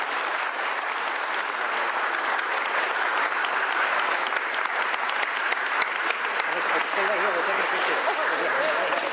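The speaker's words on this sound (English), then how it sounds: "give her a round of applause" Sustained applause from a sizable crowd at a governor's bill signing, dense and steady clapping throughout, fairly close and loud, with no pause.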